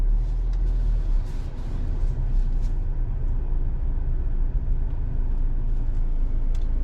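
2023 Ford Escape ST-Line Elite creeping into a parking spot, a soft steady low rumble of engine and road noise that stays even throughout with no sharp events.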